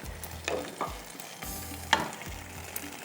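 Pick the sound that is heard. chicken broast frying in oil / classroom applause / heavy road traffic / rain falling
chicken broast frying in oil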